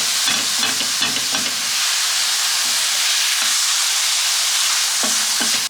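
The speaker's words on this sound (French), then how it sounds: "Tac, et vous mélangez, vous cuisez le tout." Lardons cooking and being stirred in a pan, a steady loud sizzle and hiss throughout with short scraping stir strokes near the start and again near the end, no talking.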